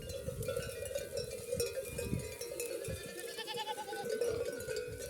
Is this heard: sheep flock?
yes